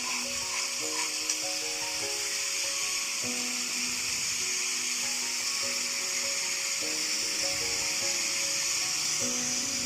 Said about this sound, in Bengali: পেস্ট করে রাখা টমেটো আর পেঁয়াজটা দিয়ে দেব। একটু ভালো মতন ভেজে